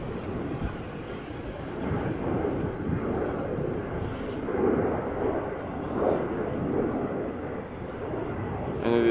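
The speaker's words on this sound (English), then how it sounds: "Embraer 190 to Hanover, just took to the sky" An Embraer 190 jet bound for Hanover climbs away after takeoff at Amsterdam Schiphol Airport, a broad, steady engine roar heard from a distance that swells and fades slightly and continues for the whole stretch.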